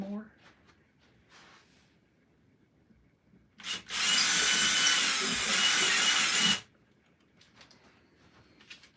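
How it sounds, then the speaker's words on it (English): A power drill bores out a hole in one close, loud burst of about three seconds, with quiet handling noises before and after. "Drill that out just a little more."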